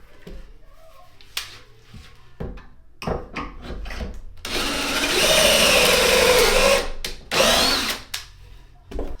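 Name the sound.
drilling pocket holes with jig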